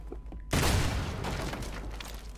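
Magnum handgun fired in Devil May Cry 5, a single sharp, loud shot that bursts in after a quiet moment and rings out into a long, noisy decay.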